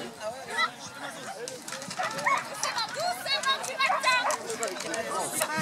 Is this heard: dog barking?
yes